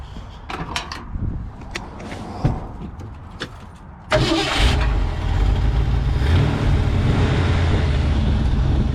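A few clicks and knocks, then a 1968 Ford F100 pickup engine turns over and catches, settling into a steady, loud idle rumble.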